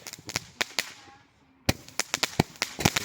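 American Soul Magnus consumer firework going off, a rapid string of sharp crackling bangs and pops in two bursts separated by a brief lull, loud and close, with no talking.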